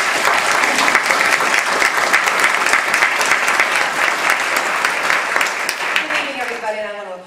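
Loud, steady applause from a large audience welcoming a guest to the stage at a Civility in America talk, with dense clapping that fades at the end and a voice entering as it dies down.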